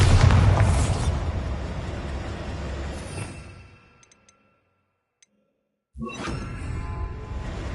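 Bombarda spell blast in the PS5 game Hogwarts Legacy, a loud close boom with rumbling debris that decays over about four seconds into near silence, followed by a second burst of crackling impact.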